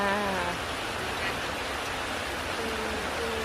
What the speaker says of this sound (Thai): ฝนตกนะคะ